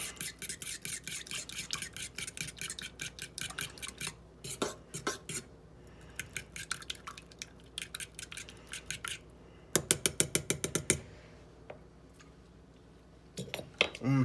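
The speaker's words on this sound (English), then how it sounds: "Stir it up." Spoon scraping and clinking against a bowl or pot while stirring sauce with pepper for grilled garlic parmesan wings, steady rhythmic metallic scrapes at close range with a burst of quicker clinks near the end, under occasional talk.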